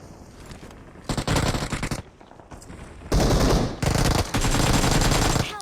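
Automatic gunfire in the PUBG video game finishes off a knocked enemy, loud sustained bursts separated by brief pauses.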